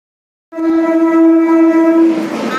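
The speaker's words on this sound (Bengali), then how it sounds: "এখান থেকে ট্রেন যাচ্ছে, দেখতে পাচ্ছ।" A train passing near Babu Ghat lets out a loud, close horn blast that begins after a short silence and holds steady for about two seconds, with a rushing rumble building beneath it toward the end.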